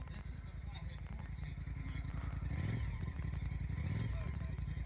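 A vintage vehicle engine idles steadily at close range, a low, rapid pulsing throb with slight swells in loudness, and a voice talks over it.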